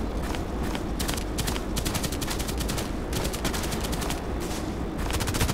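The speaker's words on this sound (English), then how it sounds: "they're shooting from the other side" Rapid automatic gunfire from the Contract Wars shooter game, dense overlapping bursts of shots sounding continuously and loudly throughout, with no talking.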